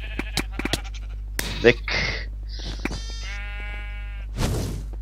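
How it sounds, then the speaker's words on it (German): Sheep bleat in the block-building game Minecraft, with a few short bleats among game clicks and effects. Excited voices talk over them, and a steady low hum runs underneath. "du hast ein Schaf!"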